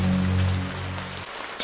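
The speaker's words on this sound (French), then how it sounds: "Il pleut dehors là-bas." Rain falls steadily outdoors in a continuous, dense patter that softens slightly toward the end, with no voices over it.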